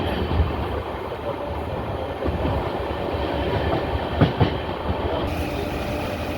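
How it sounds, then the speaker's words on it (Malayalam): Jan Shatabdi express pulling out of Kollam Junction in Kerala, a steady loud rumble of rolling wagons with faint clickety-clack and a couple of sharp clanks near the end, no voices. "കൊല്ലം ജംഗ്ഷനിൽ നിന്നും ട്രെയിൻ എടുക്കുകയാണ്"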